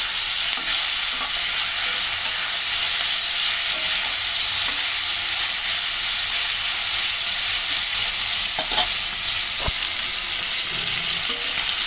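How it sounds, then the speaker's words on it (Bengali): Prawns frying in a pan, a steady loud sizzle throughout with occasional soft stirring scrapes and brief clinks, no voices. "চিংড়িগুলোকে ভালো করে ভেজে নিলাম"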